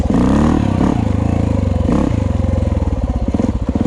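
Honda XR400R dirt bike engine revving under throttle in low first gear, a loud, close, throaty roar that pulses and surges steadily, with light mechanical clatter and no talking.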